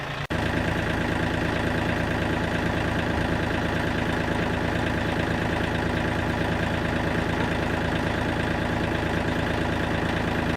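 A tractor engine runs steadily on a homestead, a continuous close droning rumble with even loudness throughout, no talk.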